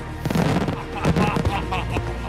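A bomba de tiro firework shell bursting at a pyrotechnics display, a cluster of sharp cracking booms and crackles of moderate loudness in quick succession.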